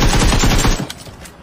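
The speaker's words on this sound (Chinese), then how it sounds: "这边刚才有人开枪啊" Automatic gunfire in PUBG Mobile, a dense rapid burst of loud shots for most of the clip, then a sudden stop leaving a few fainter distant pops.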